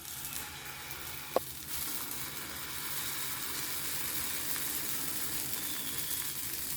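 Dosa batter poured into a lightly oiled pan sizzles and hisses in a steady close wash, with one sharp brief tap early on.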